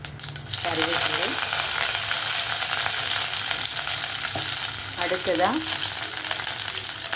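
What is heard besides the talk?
mustard seeds and urad dal sizzling in hot oil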